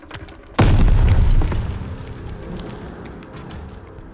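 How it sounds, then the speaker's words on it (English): A grenade explodes in the Call of Duty: Vanguard video game: one sudden, loud, deep boom that rumbles for about a second and then fades into lingering debris and ambient noise. "Grenade! Get down!"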